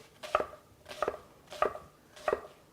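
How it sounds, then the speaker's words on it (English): Onions are roughly chopped with a Santoku knife on a board: four evenly spaced, crisp knocks of the blade, close and clear, with nothing else heard. "a nice rough chop on your onions is all you really need"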